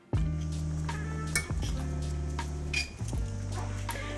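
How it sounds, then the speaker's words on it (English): A knife and fork clink and scrape against a plate while chicken is pulled from a cooked carcass, several sharp metallic chinks with ringing tones spaced across a few seconds. "Remove the chicken from the carcass using a knife and fork."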